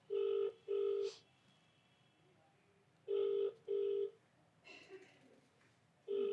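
A telephone rings repeatedly on an unanswered call in an office, loud paired ring bursts separated by pauses, with faint background sounds between rings.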